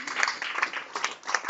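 A church congregation applauding together, a dense patter of many hands clapping in quick uneven bursts, moderately loud and filling the room, with some voices mixed in.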